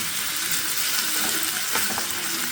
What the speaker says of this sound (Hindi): इसको अच्छे तरीके से आपने भूनना है ताकि अदरक और लहसुन जो है वो गोश्त के साथ इनका सारा फ्लेवर इसमें आ जाए।